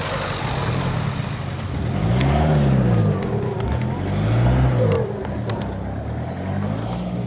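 A bus engine rumbles nearby with rising and falling turbo whines, a few sharp hissing air brake bursts, and faint talk underneath.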